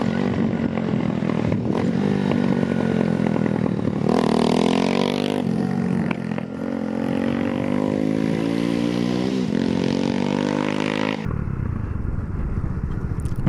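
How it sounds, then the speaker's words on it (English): Honda Grom motorcycle fitted with a 402 Innovations carbon fiber exhaust revving repeatedly outside, sharp rising and falling engine pulls close by, then settling back to a lower idle at the end. "Get a little external exhaust clip."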